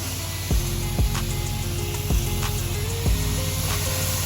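A pressure washer soft-washing a house wets the siding with a steady, loud hiss of spraying water, broken by a few short knocks and clicks from the equipment.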